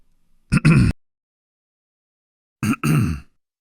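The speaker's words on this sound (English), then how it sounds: "Sorry for bothering you by constantly clearing my throat." Two short throat clearings, each a quick double rasp, separated by a couple of seconds of silence.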